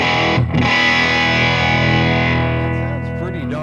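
Electric guitar played through the humbucker pickup into a Marshall combo amp, giving a loud, sustained distorted chord that rings out steadily for several seconds before slowly fading, with no talking.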